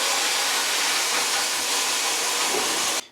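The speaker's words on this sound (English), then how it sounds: "So I'm gonna sandblast it again" Sandblasting of an exhaust manifold during an Evo 8 restoration: a steady, loud, broadband blasting hiss that holds evenly for about three seconds and then cuts off abruptly, with no voices.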